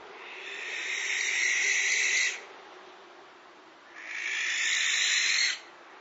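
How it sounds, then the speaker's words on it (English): Barn owl giving two long, loud rasping screeches, each lasting about two seconds, separated by a short quiet gap over faint low background hum. "A barn owl, just like Plop."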